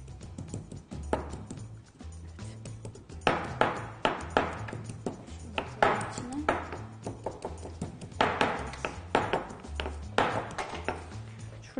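Garlic cloves crushed in a mortar for meatless çiğ köfte, a steady series of sharp pounding knocks with uneven rhythm, close and fairly loud, with no talk.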